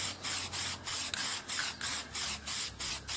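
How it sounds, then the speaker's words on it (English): Spray paint can hissing onto a night-sky painting, about eight short rhythmic bursts in quick back-and-forth strokes, close and steady with no talk. "keep your sprays about 3, maybe 6 inches away from the painting"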